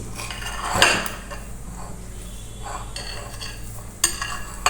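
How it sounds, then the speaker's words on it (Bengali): A knife cuts through a pan-fried, stuffed flour-dough snack filled with egg and chicken, giving a few close clinks and scrapes against a plate over a steady low kitchen hum, with sharper taps near the end and no talking. "আমি একটু কেটে নিচ্ছি"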